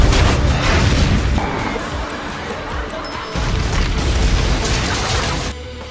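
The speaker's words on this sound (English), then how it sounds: "Yes, of course we're talking about the explosions." A dense, roaring wall of explosions and crashing debris, loud and continuous, with rumbling booms rolling over each other.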